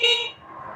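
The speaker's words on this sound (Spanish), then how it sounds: "Ok, claxon." A car horn sounds during a repair check as one short, bright honk that starts sharply and fades within a fraction of a second, heard alone.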